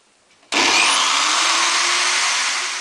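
A power drill bores into a tin can for a stove-burner build, starting abruptly and running as a loud, steady, close-up grinding whine to the end.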